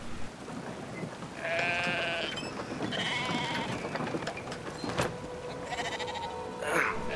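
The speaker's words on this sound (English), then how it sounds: "Strong old self would pick up a really big sheep." A sheep in the video game Brothers: A Tale of Two Sons bleats several times, with drawn-out nasal cries fairly close over rumbling game ambience and scattered thuds.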